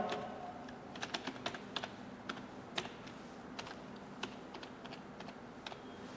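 Someone types a password on a computer keyboard, producing quiet, irregular key clicks spaced out over several seconds, close and alone.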